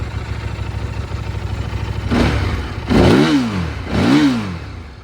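A 2009 Buell 1125R motorcycle with aftermarket headers, idling with a throbbing low rumble, then revved three times in quick swells that rise and fall, close and loud.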